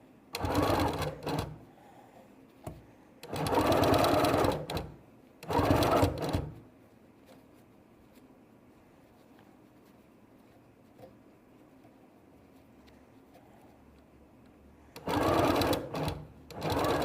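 Sewing machine stitching in short, loud, close bursts: two runs, a third, a long quiet gap, then a final run, with nothing in between but faint room noise.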